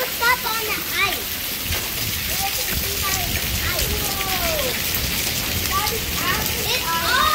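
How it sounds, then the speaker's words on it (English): Hail and ice pellets pelting the ground outdoors in a dense, steady patter like heavy rain, with people talking excitedly over it throughout. "It's like somebody's throwing ice cubes all over."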